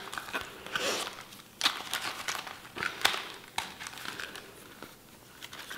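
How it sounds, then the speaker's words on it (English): Several cards slide into the accordion section of a Louis Vuitton Juliette wallet, with close, quiet crinkling, rustling and light taps coming in irregular bursts. "I'm gonna take these 7 cards and I'm gonna put them into the accordion"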